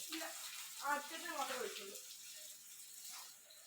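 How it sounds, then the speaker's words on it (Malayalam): Water from a garden hose splashes onto potted plants and chilli plants in a steady, soft, hissing pour. Voices talk over the water near the start. "അങ്ങനെ പറയാതെ വെള്ളം ഒഴിച്ചേക്കുന്നു"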